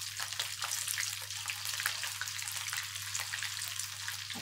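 Chicken malai kandi pieces fry in hot oil in a pan, giving a steady, close, dense crackling sizzle that runs unbroken throughout, with no voices.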